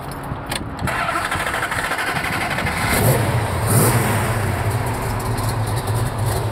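A 1973 Plymouth Barracuda engine cranks and catches, then idles roughly and revs up a couple of times, loud and close.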